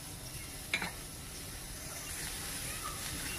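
Onion roasting in a pan for Maharashtrian katachi amti gives a faint, steady sizzle and hiss, with one brief clatter near the start.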